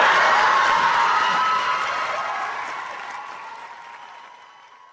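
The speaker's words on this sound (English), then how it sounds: "A very deserved long applause" Studio audience applause and cheering in a played television sitcom scene, loud with whoops at first, then slowly fading over several seconds into a thinner patter.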